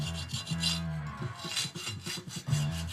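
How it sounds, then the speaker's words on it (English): A small jeweler's file rasps back and forth along the edge of a sanded wooden part in repeated short strokes, close and fairly quiet, with no talking. "I'm gonna use a little, they're called jeweler's files, just to take the last little bit of edge off our sanding side"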